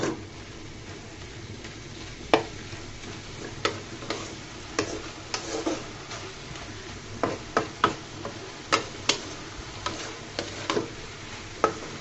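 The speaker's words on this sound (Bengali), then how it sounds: "নেড়ে চেড়ে দিচ্ছি" Bottle gourd greens cooking in a pan are stirred, with a low sizzle under a string of sharp spatula taps and scrapes against the pan at irregular intervals, fairly quiet and without speech.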